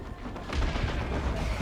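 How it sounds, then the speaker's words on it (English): Manticore rocket artillery firing in the Warhammer 40,000 strategy game Dawn of War 2, a dense rumbling boom of launches and blasts that swells and holds steady through a short stretch. "Oh, Manticore there to open things up."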